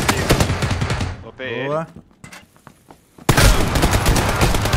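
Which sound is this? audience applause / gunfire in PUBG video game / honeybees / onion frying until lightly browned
gunfire in PUBG video game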